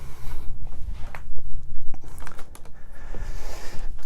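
Thick Blu-ray packaging is worked open by hand, close crinkling plastic and irregular sharp clicks and scratches with uneven rhythm, no voices.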